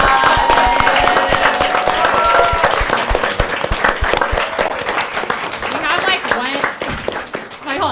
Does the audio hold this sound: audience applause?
yes